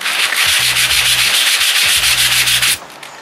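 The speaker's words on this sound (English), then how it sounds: "Still have to sand them, and I've rubbed off most of the paint" Hand sanding paint off a fibreglass boat's topside, a loud close rasping scrub in steady back-and-forth strokes with low thumps, stopping abruptly near the end.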